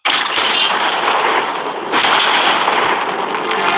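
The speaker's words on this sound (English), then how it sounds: "these 5 tanks pointed at your money are about to fire 20 rounds" Tank cannons fire shots at a target, heard as loud, sharp blasts followed by a dense crackling roar of debris and dust, with a second blast hitting about two seconds after the first.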